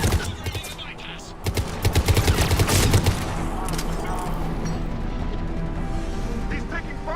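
Dense rapid gunfire in a Mass Effect 3 firefight, loud and sustained with clustered bursts and impacts over a rumbling battle backdrop, with voices calling out amid the shooting.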